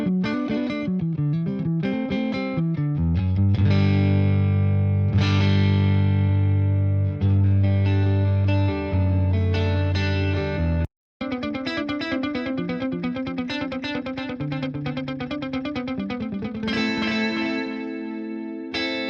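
A clean electric guitar, a PRS SE DGT, played through a pocket-sized Boss Katana Go amp, ringing out chords and melodic runs with shimmering effects, close and steady throughout, with one brief silent gap near the middle.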